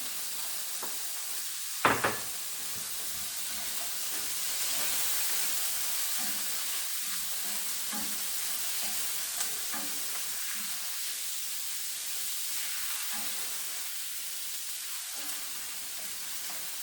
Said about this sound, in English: so I'm going to drop it in the scallop